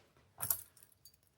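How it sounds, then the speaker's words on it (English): Two sets of keys for a MasterLock SafeSpace lock jangle briefly while being unboxed: one short metallic rattle near the start, then a few faint clinks in a quiet room. "So, got keys, two sets of keys"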